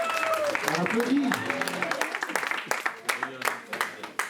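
Wedding guests at a celebration in Trementines, France, break into applause that starts under overlapping voices and continues as scattered, uneven claps, loud and close, tapering toward the end.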